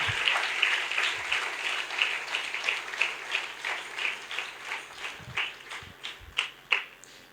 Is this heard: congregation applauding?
yes